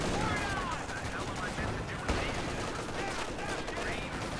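Sustained machine gun fire from an MG34 in Company of Heroes 2, a dense continuous rattle of bursts mixed with other battle gunfire, loud and steady throughout.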